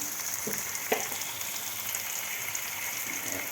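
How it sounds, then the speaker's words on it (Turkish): Peeled, chopped tomatoes with green pepper and salt frying in a pan for a Turkish tas kebab, a steady, dense sizzle throughout with small crackles and stirring bumps, close and even. "Kabuğu soyulup doğranmış domateslerimi de bırakıyorum."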